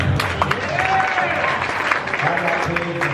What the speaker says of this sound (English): Give yourself a round of applause if you have kids.